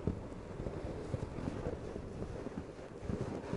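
Steady wind gusting across a snowkiting slope in Obertauern, a continuous close rumbling buffet against the microphone with no pauses, carrying no voices.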